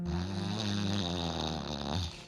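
A person imitates a deep snore with their voice, one long, low, rumbling rasp that holds steady at full loudness and cuts off abruptly.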